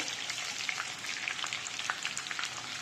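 Onions frying in oil in a home kitchen pan, a soft continuous sizzle speckled with fine pops and crackles, fairly quiet and steady with no voices.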